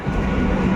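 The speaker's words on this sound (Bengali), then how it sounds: "ট্রেন চলে এসছে" A low, steady rumble of a train rolling into a station, heavy and close, with a faint metallic hum on top.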